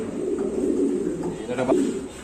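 A pigeon at a racing-pigeon loft coos steadily and close by, with a low, continuous throaty rumble over a quiet background.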